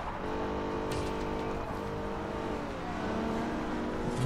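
A Ferrari California engine in Forza Horizon, a steady droning engine note holding at speed with a slight rise in pitch, heard close and continuous with no talk.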